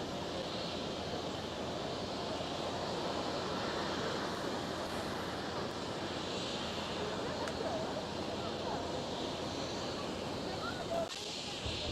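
An easyJet Airbus A320neo takes off from a runway at Amsterdam Schiphol. Its engines make a steady, broad jet roar heard from a distance, continuous for the whole stretch.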